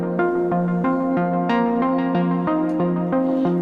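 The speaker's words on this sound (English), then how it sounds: "So you have this plucky sound coming out." Short, bright synth notes pluck in a quick steady pattern, each one snapping on and decaying fast, with no voices.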